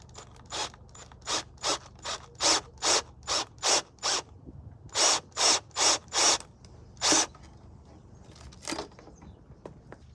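A series of short, sharp bursts, about a dozen in quick rhythm with brief gaps, as a cordless drill bores holes into a van nearby.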